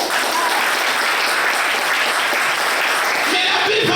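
A church congregation applauds steadily for a few seconds as a dense, even patter of clapping, with a voice briefly heard over it near the end.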